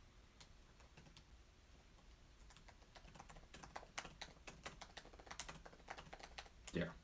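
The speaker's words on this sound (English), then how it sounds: "Yeah, you're gonna hear those clacky keys" Rapid clacky keystrokes on a mechanical computer keyboard, close and fairly loud, in bursts and runs of taps with a few louder hits near the end, no talking over them.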